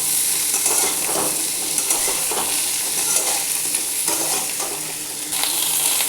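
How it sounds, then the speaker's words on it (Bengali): Pointed gourd pieces fry in oil in a pan for a home-style fish curry, giving a loud, continuous sizzle with occasional stirring scrapes and no talking. "দেখুন, পটলটাও বেশ কিছুটা ভাজা হয়েছে"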